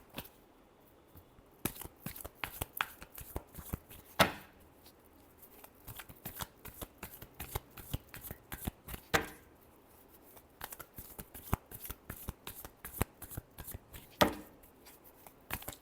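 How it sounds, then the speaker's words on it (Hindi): Tarot cards are shuffled by hand in a quiet room: rapid riffling and slapping bursts in an irregular rhythm, close and crisp, with no speech. "Last shuffle."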